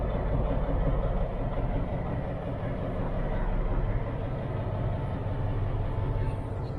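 Diesel locomotives idle at a rail station in cold weather, producing a continuous heavy low-frequency engine rumble, loud and close, steady throughout, with a voice faintly present beneath it.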